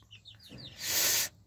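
Chickens on a farm give a few soft chirps and clucks, then a short harsh squawk from a young rooster cuts in close and fairly loud before breaking off.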